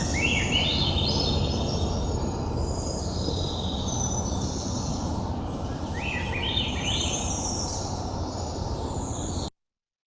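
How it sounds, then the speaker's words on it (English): A Swainson's thrush sings in a mature deciduous forest, its spiraling, flute-like phrases rising in repeated bursts over a steady broadband rush before cutting off abruptly. "I'm going to play another video so you can hear this really beautiful Swainson's thrush song"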